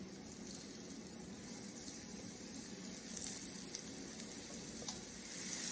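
Beef sears in a very hot oiled pan, a soft, steady sizzle and crackle with small pops, growing slightly louder toward the end, quiet overall with no talking.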